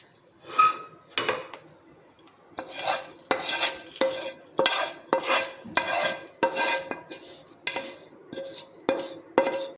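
Repeated rhythmic scraping as tempering is stirred into dry potato chevdo in a metal pan or bowl, strokes coming in regular bursts with short pauses between, close up.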